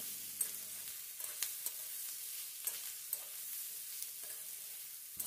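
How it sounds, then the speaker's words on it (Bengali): Beetroot, carrot and capsicum stirred with turmeric in a pan, a quiet steady sizzle broken by scattered soft scraping clicks of the spatula, close and alone with no talk. "এবার হলুদ গুঁড়োকে এর সাথে খুব ভালো করে মিশিয়ে নিতে হবে"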